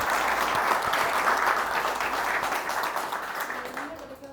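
An audience at an engineering and production efficiency event breaks into sustained applause, dense and steady at first and then tapering off near the end, with a little speech in the background.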